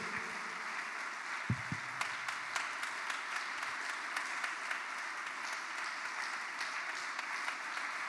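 A church congregation applauding during a worship service, steady dense clapping throughout at moderate volume, with no talk over it.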